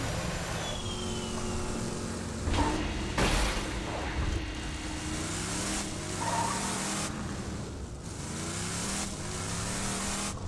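Car driving in the video game Borderlands 2, a steady engine drone with shifting revs and occasional bumps and skids, continuous throughout.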